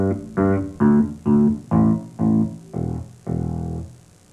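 A bass guitar plucked near the bridge gives a hard, biting tone: eight separate notes, each with a sharp attack and short sustain, clear and close with no talking.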